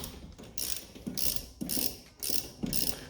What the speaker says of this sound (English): Tighten down my caliper bolts.